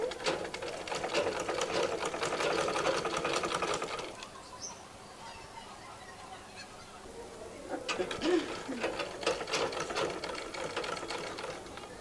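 A sewing machine stitches a baby frock in fast, rattling bursts, running for about four seconds, pausing, then starting again, close and fairly quiet.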